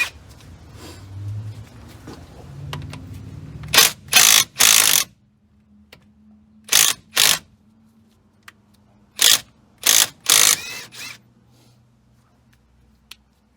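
A ratchet wrench on a 19 mm socket works a rusted brake caliper bolt loose on a GMC/Chevrolet truck, with sharp loud bursts of rapid clicking in short groups separated by quiet pauses.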